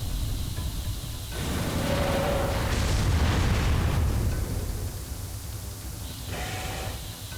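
Explosions and a ship's hull breaking apart under fire in Armored Core 3: a steady, loud rumble of deep booms that swells into a roaring burst midway and then eases off.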